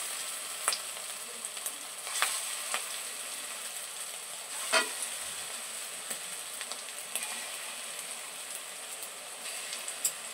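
Small pieces of dough sizzle and crackle in hot oil, a steady close frying hiss with scattered sharp pops and occasional louder spatters.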